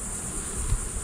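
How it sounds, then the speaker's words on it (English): Agitated honey bees buzz on a hive frame during a varroa mite check, a close continuous drone with a faint high whine running steadily through the short stretch. "Quite a few bees here. They're a little on the agitated side here. They're moving a little quick."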